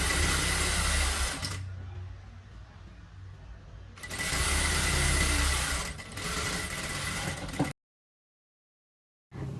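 Sewing machine stitching a folded fabric strip onto a crop top with puff sleeves, a loud steady whir running in bursts with short pauses, then a break in silence before the motor starts again.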